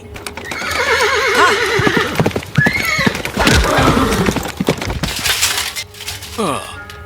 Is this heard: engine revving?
no